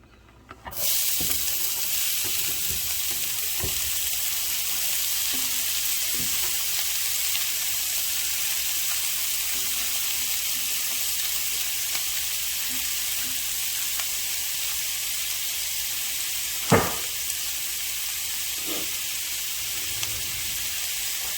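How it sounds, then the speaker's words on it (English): Onions sautéing over medium heat in a pan give a steady, close broadband sizzle that holds evenly throughout, with a few soft knocks and one sharper clack about two-thirds through. "I got my heat on medium. We're going to start breaking down these onions."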